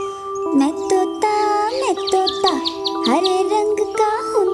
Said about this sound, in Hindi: चोंच मेरी लाल रंग की मिठू मिठू मैं करता